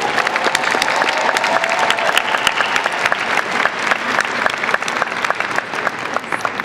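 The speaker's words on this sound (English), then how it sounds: "Please join me in a round of applause for the Master of Public Management students." A large audience at a Heinz College hooding and diploma ceremony applauds Master of Public Management graduates, a dense, steady wash of clapping that stays loud throughout.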